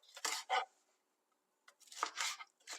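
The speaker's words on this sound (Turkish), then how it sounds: "Şimdi aynı şekilde kapya biberlerimi de doğruyorum." A knife cuts capia (red) peppers on a board in a home kitchen, giving two short crisp bursts of chopping, a pause of near silence, then several more quick cuts, close and fairly quiet.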